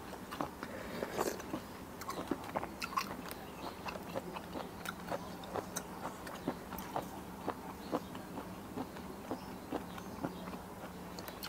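Close-up crunching and chewing of a spicy Thai squid salad made with thick squid strands, asparagus, fermented fish sauce and crab paste, steady bites repeating throughout with no talking.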